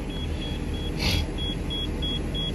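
An RV's warning beeper chimes repeatedly while the vehicle sits in neutral in a barn, evenly spaced short electronic beeps over a low idling rumble, with one brief louder burst of noise midway and no talking.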